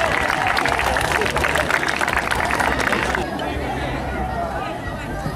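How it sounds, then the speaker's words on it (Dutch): Guests at a family party applaud a prize winner with a dense burst of clapping and cheering that cuts off abruptly, leaving low murmuring crowd chatter behind. "Een dik applaus alsjeblieft"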